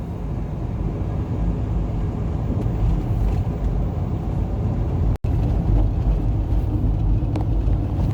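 Heavy traffic of large vehicles on a winding road toward the Karangkates dam, heard as a steady, loud broadband engine and road rumble without a break, briefly cutting out once.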